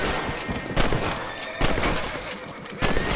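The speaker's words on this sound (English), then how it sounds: "Better at shooting rabbits than outlaws, I see." Rifle shots at rabbits in Red Dead Redemption, three loud sharp cracks spaced under a second apart, each with a short echo trailing off against constant outdoor game ambience.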